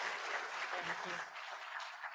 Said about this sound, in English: Let us give it a warm welcome and a round of applause to Dr. Jubelkis Montalvo